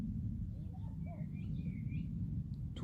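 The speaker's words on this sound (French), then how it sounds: "j'entends différents types d'oiseaux qui chantent," Several faint birds chirp and sing in short warbling phrases over a low, constant rumble of distant background noise.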